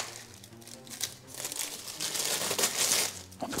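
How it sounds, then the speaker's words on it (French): Packaging is crinkled and crumpled as wrapped old bottles from 1979, found in an abandoned monastery, are unwrapped, giving a close, continuous rustling with sharper crackles toward the end. "On va les déballer juste pour vous les faire voir"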